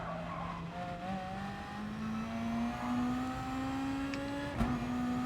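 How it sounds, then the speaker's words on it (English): Race car engine in Gran Turismo Sport, played on a Logitech G29 wheel, holding a steady rising drone with brief gear-shift breaks and tire squeal near the end, loud and continuous with no talk. "So now I can hear my engine and my gears now"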